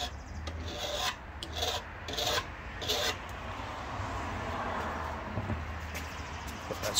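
Steady rasping scrapes of a hand scraper shaping a curve in walnut wood, a continuous close rub with short rhythmic strokes and no talking.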